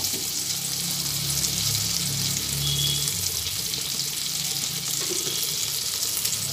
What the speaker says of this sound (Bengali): হলুদ দেওয়ার পরে আবার একসঙ্গে সব তেলের মধ্যে ভেজে নিচ্ছি।